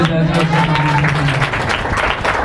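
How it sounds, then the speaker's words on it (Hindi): Audience clapping fills the clip, a dense rattle of many hands, while a voice speaks or sings over the first half. "ताली"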